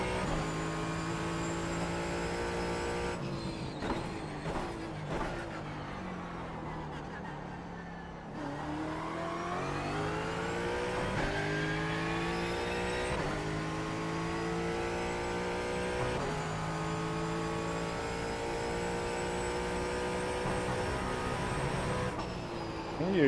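A Ford Mustang GT4 engine revving hard and accelerating through the gears at Sonoma in iRacing, with steady rising harmonic sweeps, a short dip around a gear change, then sustained high-rpm drone.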